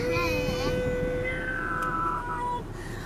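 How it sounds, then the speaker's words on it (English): An ambulance siren passes by on a street, a steady wailing tone held for a few seconds before fading, heard under a person talking and ambient outdoor noise. "There's an ambulance coming by."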